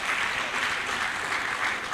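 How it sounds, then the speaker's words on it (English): An audience at a decoration ceremony for newly promoted service officers claps for a young officer, an even, sustained round of applause from a large crowd with no speech over it. "Please, a round of applause for the young officer."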